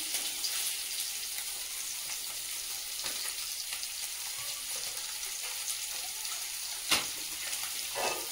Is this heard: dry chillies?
yes